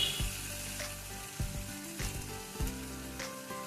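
Onion and tomato cooked down to a paste sauté in a pan for Kerala fish curry, giving a steady soft sizzle broken by a few stirring knocks, close and fairly quiet with no voices.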